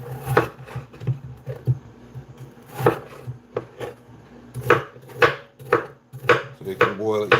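A knife cuts potatoes on a cutting board for boiling: sharp, irregular thuds and clicks in short bursts, close and fairly loud, with no talking.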